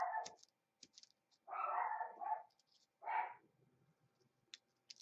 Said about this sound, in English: I'm just going to have to get after her for barking.